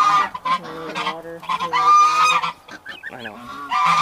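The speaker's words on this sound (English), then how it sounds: "The little goose." A young goose on a homestead honks repeatedly up close, loud nasal calls arriving in irregular bursts and overlapping one another, with no speech.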